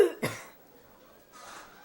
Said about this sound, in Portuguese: já vou começar com uma tosse